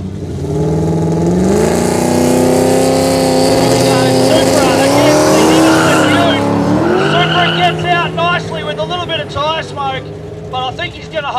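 Red Toyota Supra drag racing on a no-prep airstrip, its engine revving hard with rising gear pulls and loud sustained roar, then fluctuating and sputtering as it lifts, with a commentator talking over it.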